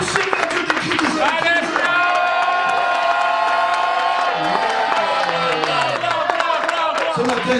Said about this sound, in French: Maintenant, poussez vers Dieu des cris de joie.